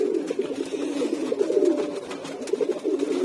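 Domestic pigeons coo in low, repeated throaty rolls close by, several birds overlapping in a continuous murmuring rhythm with no speech.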